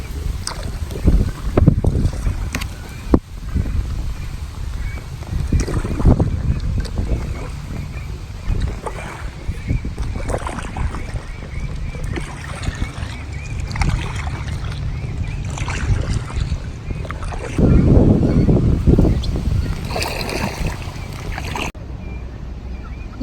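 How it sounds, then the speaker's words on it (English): Tour boat moving on the water at Silver Springs State Park in Florida, a steady engine rumble with wind buffeting the microphone throughout and a louder surge near the end. "There's a boat tour behind us."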